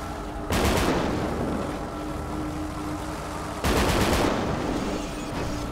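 Heavy automatic gunfire from guns mounted on a vehicle in GTA 5 zombie survival, two sustained bursts of rapid shots over a constant engine rumble, loud and close.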